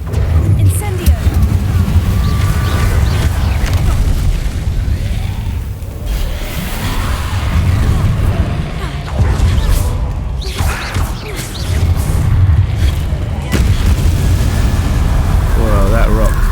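Incendio fire spells bursting in Hogwarts Legacy, loud rumbling fiery blasts and crashes in a dense, continuous game soundscape, with a voice speaking over the action.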